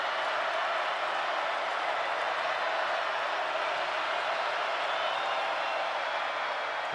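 A college football stadium crowd at North Dakota State's home game against South Dakota State roars steadily with a dense, loud, unbroken wash of cheering and noise in the fourth quarter, with no clear individual voices standing out.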